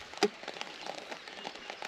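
Rain falling during rod fishing for tench, crucian carp and carp, a faint, scattered patter of drops with one louder tap near the start.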